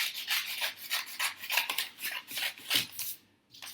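Scissors cutting coloured paper, a close series of quick rasping snips in a steady rhythm, ending with a short pause and one last cut.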